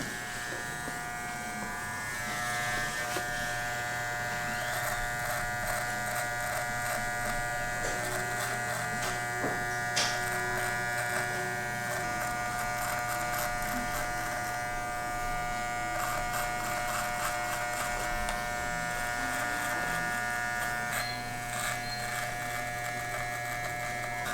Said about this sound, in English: Just switching to a different trimmer. This one's got a little bit more juice.